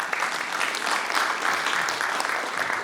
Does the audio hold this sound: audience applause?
yes